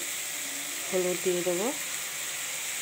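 Cumin and coriander paste with turmeric and salt sizzles in a pan as the base for a rohu fish and potato curry. A steady, close frying hiss runs throughout, with a voice heard briefly in the middle.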